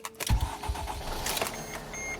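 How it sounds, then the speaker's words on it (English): A Freightliner/Dodge Sprinter van, fixed after a crank-no-start fault, cranks briefly and its engine catches, a short starter whir giving way to a steady close idle with no talking. "I'm gonna start the engine."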